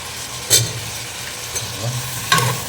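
Halved potatoes frying in oil for a mutton lung gravy, a close steady sizzle broken by two sharp stirring scrapes about two seconds apart.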